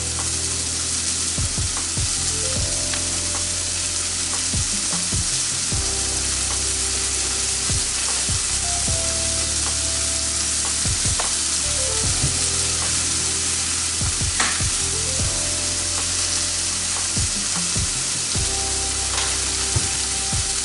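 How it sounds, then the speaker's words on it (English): Tuna seasoned with salt and pepper pan roasts in a hot pan, a loud, close, unbroken sizzle with occasional spits and crackles throughout. "All we're gonna do to add to this is a little bit of salt and pepper, and we're just gonna let it pan roast."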